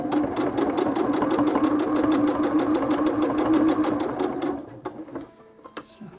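A sewing machine stitches a quilt loop, running steadily for about four and a half seconds at a fast, even rhythm before stopping, with a few quieter clicks and handling sounds after.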